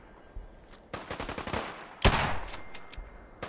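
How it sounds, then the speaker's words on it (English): Super mutants fire guns in Fallout 4, a few bursts of automatic shots crackling at a moderate distance, with one sharp loud blast near the middle followed by scattered lighter shots. "They're shooting at something else over there."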